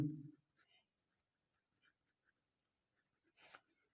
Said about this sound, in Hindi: अतः यहाँ अतः करके भी लिख देते हैं, अतः मोहिनी